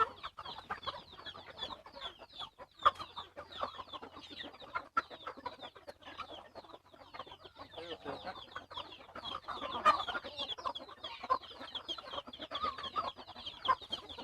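A flock of chickens clucks busily while being given feed, a constant scattered chatter of short calls with occasional louder squawks, close by and fairly quiet.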